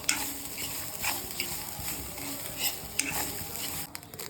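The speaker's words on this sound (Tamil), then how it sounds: "தேங்காய் போட்டுட்டு நல்லா வறுத்து விட்டுருவோம்" Grated coconut dry-roasting in a pan for fish curry, soft sizzle with irregular scraping and stirring taps of a spatula, fairly close.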